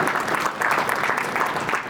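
An audience claps at a school inauguration ceremony, a steady round of applause that swells in slightly pulsing waves and holds at a fairly loud level throughout.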